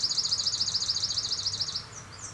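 A swamp sparrow sings a recorded song, a high, metallic trill of rapid, evenly repeated notes lasting almost two seconds, clear and fairly close, with no voices.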